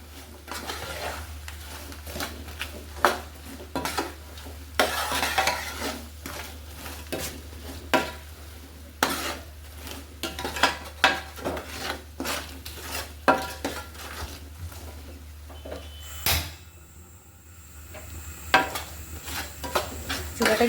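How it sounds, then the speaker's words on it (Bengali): A spoon stirs garlic pickle spices through hot oil in a pan, giving repeated scraping clinks against the metal over a low sizzle. The strokes are close and steady for about twenty seconds, with a short pause near the end. "ভালো করে মিলিয়ে নিই।"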